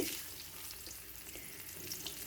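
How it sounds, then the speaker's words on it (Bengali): Bay leaf and panch phoron, with dried chilies, fry in hot mustard oil in a kadai, giving a soft, even sizzle that hisses steadily for a couple of seconds. "তেজপাতা আর পাঁচ ফোড়ন কড়াই গরম হয়ে আসলে সরিষার তেল দিয়ে একটু নেড়ে ছেড়ে"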